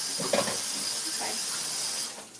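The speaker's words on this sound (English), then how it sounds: "So I just try to rinse off that spatula" Water runs steadily from a tap in a home kitchen while a spatula is rinsed off, making a constant hiss and splash for about two seconds before it tapers away.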